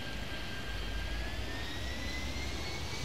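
Jet airplane taking off in the video game Airport Madness 3D, a steady, loud engine roar with a rising whine, continuous and unbroken with no talk.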